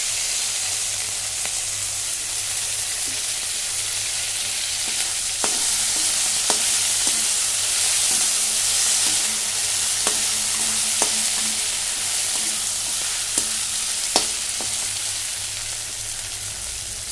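Fish frying in mustard oil gives a steady, loud sizzle with no pauses, while occasional clicks and scrapes from stirring cut through it.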